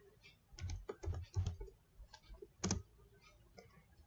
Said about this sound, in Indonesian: kita bisa ketikkan